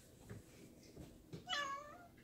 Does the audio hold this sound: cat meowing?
yes